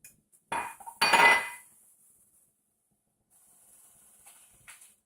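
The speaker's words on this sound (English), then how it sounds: "I'm going to put my sugar in" Sugar tipped into a pot of boiling homemade chocolate syrup makes a sudden loud rattling, hissing rush lasting about a second. Near-silence follows, then a faint hiss returns at the end.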